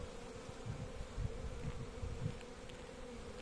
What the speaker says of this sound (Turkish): gördüğünüz üzere arılar aşağılarda, yukarılarda, buralarda.